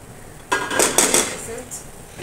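A metal lid set onto a pan of shevaya (vermicelli) upma just off the gas, giving a close clatter and a few light clinks after a quiet start, then fading to a low background.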